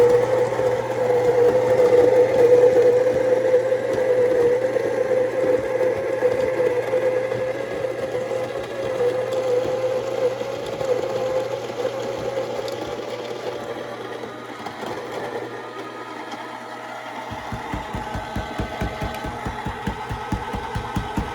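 An espresso machine with a 54 mm bottomless portafilter pulls a shot, giving a steady, droning pump hum that fades and then turns to a rapid pulsing rattle near the end.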